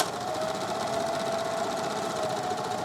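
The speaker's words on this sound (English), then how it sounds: "I'm going to sew across the top curved edge" A sewing machine runs steadily, stitching two pinned cap panels along their curved top edge with a quarter-inch seam; a continuous close whirring hum with a fast mechanical pulse, alone and without pauses.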